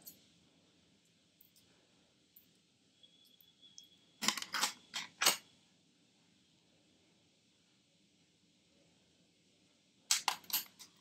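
Vitamin E capsules are snipped open with scissors in two short bursts of three or four crisp clicks, close and distinct against a quiet room.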